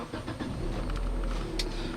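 A 2011 Kia Soul on the road, its engine and tyre rumble a steady low drone throughout, with a brief higher hiss or whoosh near the end; no one talks.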